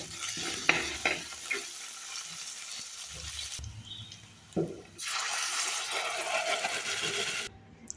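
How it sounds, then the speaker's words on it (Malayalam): Mustard seeds and chopped shallots frying in coconut oil in a pan, a steady close sizzle with a few sharp pops and stirring clatters, briefly dropping away mid-way before the hiss returns loud and even. "വെളിച്ചെണ്ണ ഒഴിച്ച് അതിൽ കടുക് ഇട്ട് കൊടുക്കുക. കടുക് പൊട്ടിയതിന് ശേഷം അതിലേക്ക് ചെറുതായി കട്ട് ചെയ്ത ചെറിയുള്ളി ഇട്ട് കൊടുക്കുക."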